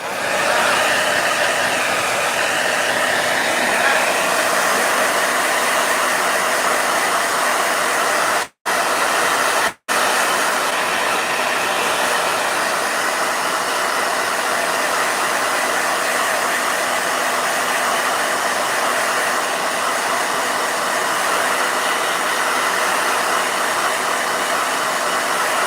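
A blow dryer roars loudly and steadily, cutting out briefly twice partway through before running on, drying a watercolor painting.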